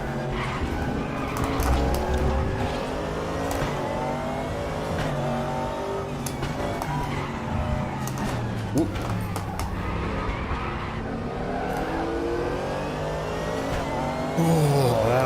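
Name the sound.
GT3 race car engine revving at Bathurst in a racing video game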